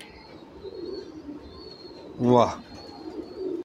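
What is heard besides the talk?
pigeon cooing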